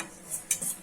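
A utensil stirs a sugar mixture in a pot set over a water bath, giving faint scraping and a couple of light clinks in under a second.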